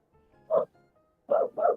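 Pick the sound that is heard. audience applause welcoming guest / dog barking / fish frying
dog barking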